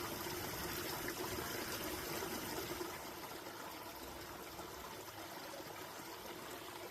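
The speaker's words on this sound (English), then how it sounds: "the water's coming down out underneath the bottom of it there" Water trickles and gushes steadily out from under a fallen tree across a forest stream on a hiking trail, a continuous broadband rushing that eases slightly partway through, heard alone.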